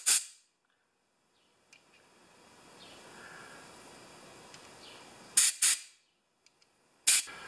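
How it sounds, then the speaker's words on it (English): Short sharp blasts of compressed air blow off carburetor parts from an older Toro mower, a hissing burst at the start and a quick double burst and a single burst near the end, with quiet stretches between. "wash these parts off with air"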